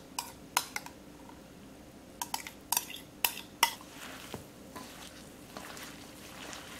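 Green papaya salad being tossed with its sauce for a Thai-style dish, giving soft wet mixing under a series of sharp utensil clicks and taps against a bowl, close by with no talk.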